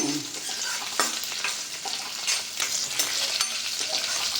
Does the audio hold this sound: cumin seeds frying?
yes